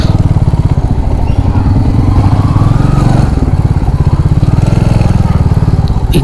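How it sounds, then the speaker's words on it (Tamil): A motorcycle rides in to park at a heritage museum, its engine loud and close with a steady, throbbing beat that holds the whole time. "நான் வண்டியை போய் உள்ளுக்குள்ளே பார்க் பண்ணிட்டு வந்துடுறேன்"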